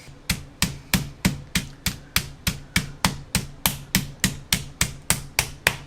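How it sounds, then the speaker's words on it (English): A big heavy mallet's flat side pounding chicken on a board, about seventeen sharp, evenly spaced thuds in a steady rhythm, close and loud with no talk. "I have here just a big heavy mallet, and I'm going to use the flat side."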